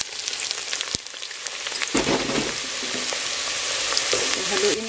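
Young onions hit hot cooking oil over high heat, a steady crackling sizzle that swells after a sharp knock and keeps spitting, close and loud with no talk.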